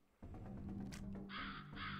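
Crows caw loudly in a fantasy video game, harsh raspy calls layered over a low droning game score, with a brighter noisy burst near the end.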